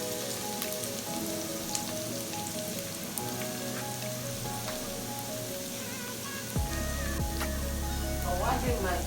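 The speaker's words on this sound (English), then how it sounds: "I'll add in my garlic. Add fry." Garlic sizzles steadily in a hot pan for coconut fried rice, a soft crackling fry throughout, with a brief scrape of stirring near the end.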